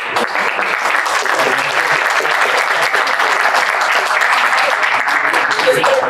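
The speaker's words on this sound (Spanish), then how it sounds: "un aplauso" An audience breaks into loud, sustained applause after a talk on Frankenstein and AI, many hands clapping in a dense, even roar that holds steady throughout.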